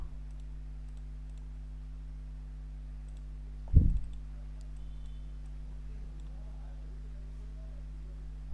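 A single mouse click opening a detailed report in Oracle Fusion Financials, a brief soft tap over a steady low hum.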